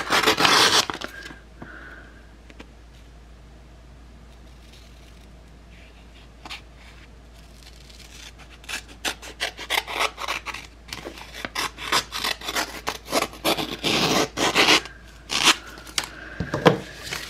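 Scissors snip and rasp through a printed sticker decal reading "awesome" with two stars, trimming off the excess at a studio packing desk; quiet at first, then a dense run of close, crisp cuts and crinkles grows louder toward the end.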